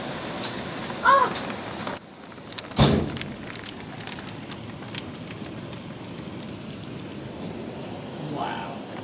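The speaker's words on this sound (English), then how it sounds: "It was hailing there for a second. It still is." Hail falls during a storm, a steady dense patter of pellets striking surfaces, moderately loud and continuous, with a couple of brief louder knocks and faint voices.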